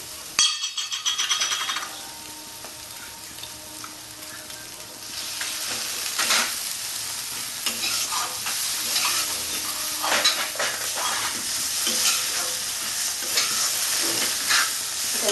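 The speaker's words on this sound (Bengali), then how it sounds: "লঙ্কার গুঁড়োটা আমি সব দিয়ে দেবো সবগুলো আমি ভালো করে কষতে থাকবো" Ground spices and chilli powder are stir-fried in a pan for Bengali-style rui fish kalia, sizzling and scraping steadily with clinks of a spatula against the pan, close and alone with no talk.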